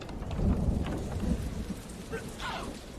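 Rain and thunder in a film scene, with steady rain hissing over a low rumble of thunder, fairly quiet and continuous, with faint voices in the background.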